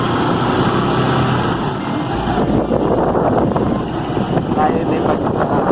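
Strong, steady wind roars and buffets the microphone under a typhoon signal no. 1 in Angeles City, Pampanga, Philippines, a loud continuous rush filling the whole stretch.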